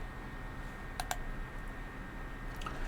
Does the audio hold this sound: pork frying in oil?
no